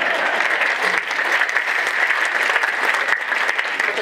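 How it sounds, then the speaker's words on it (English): An audience at a Sydney lecture on carbon tax applauds with steady, dense clapping that holds at an even level for the whole stretch. "Let's give it a round of applause."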